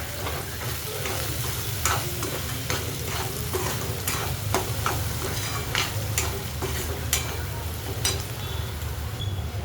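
Masoor lentil curry stirred in hot oil after red chili powder goes in, a steady close sizzle with regular spatula scrapes and taps against the pan, with no talking.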